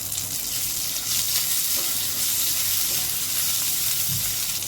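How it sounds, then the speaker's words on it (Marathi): Grated radish sautéing in a pan with green chilli and chilli flakes over low heat, giving a steady close sizzle and frying hiss with faint stirring throughout. "किसलेला मुळा हे आपल्याला परतून घ्यायचे"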